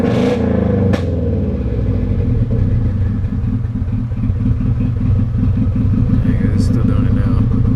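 A cold car engine with a tune issue idles roughly and loudly up close, its steady rumble broken by irregular popping backfires and a sharp crack near the start, while someone talks over it.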